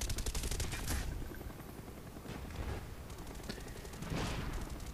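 Bursts of gunfire from a Call of Duty Black Ops match on the Stockpile map, with rapid automatic shots loud at the start and again near the end and sparser shooting in between.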